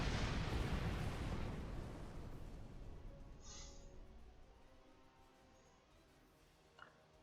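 Torpedo fire in the space game Star Trek Online: a loud opening explosion that rumbles and slowly fades into a distant hiss, followed by a faint whoosh and a small pop near the end.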